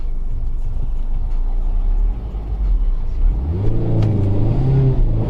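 A 2019 Mazda MX-5 drones loudly from inside the cabin, then its engine note climbs sharply in pitch as it accelerates hard at full throttle near the end.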